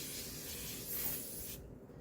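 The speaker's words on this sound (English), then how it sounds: "I'm going to spray my face" Face mist sprays in one continuous hiss for about a second and a half, close to the microphone, then cuts off into near-silence.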